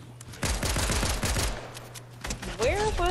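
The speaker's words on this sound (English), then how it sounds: "Where was that gunfire coming from?" Rapid bursts of gunfire in the video game Fortnite crackle in quick succession, followed by whooshing electronic effects, with a voice talking faintly underneath.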